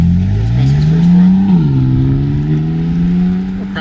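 BMW M car with carbon ceramic brakes accelerating on an autocross practice run at an M Club day, the engine note climbing loud and close, dipping briefly with a shift, then pulling up again.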